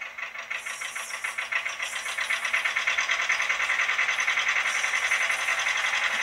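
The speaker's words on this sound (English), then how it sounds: "You hear that prime mover really kick up because it's got all the strain of the pull test not giving way" Prime mover of a PIKO HO scale Whitcomb 65-ton diesel locomotive revving under load during a pull test, a pulsing mechanical drone that builds in rhythm and loudness, steady and close with no speech.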